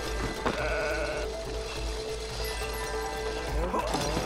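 A sheep bleats several times in It Takes Two over a constant low hum, with a few faint clopping knocks mixed in.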